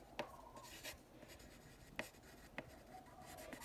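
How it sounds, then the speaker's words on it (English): Pen or pencil signing a hand-drawn wave sketch on paper, a few quick close scratchy strokes separated by short pauses, quiet and alone. "I'm going to sign my little sketch here."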